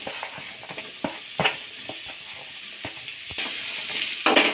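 Sliced onions frying in two to three tablespoons of oil in a frying pan, a bright continuous sizzle broken by sharp stirring knocks and scrapes, with the hiss swelling louder near the end.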